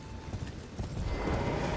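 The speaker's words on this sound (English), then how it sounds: "Actually ride our horse on this one?" Horse hooves clip-clop steadily and close while riding a horse in the video game Elden Ring, a quick continuous rhythm with no talking.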